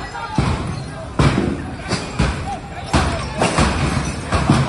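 Sharp, loud bangs of firecrackers going off during a demolition, several irregular blasts a second or so apart, close and harsh over background noise and voices.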